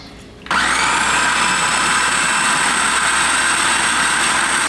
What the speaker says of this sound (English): Now you have to blend all the ingredients, and to help the blending, you add a little bit of apple vinegar.